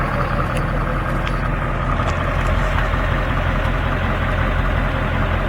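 A 7.3 Power Stroke diesel truck engine idles steadily after a quick start, a loud, continuous low rumble with an even, unbroken drone and no voices.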